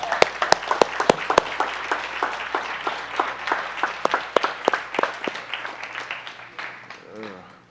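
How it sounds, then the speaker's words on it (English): A crowd applauds with scattered sharp hand claps that gradually thin out, while a voice talks faintly in the background. "give him another hand clap"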